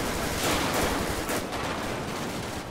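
Gunfire in GTA 5 during a police gang-unit patrol, a loud dense burst of rapid shots and blasts filling the whole moment, no voices.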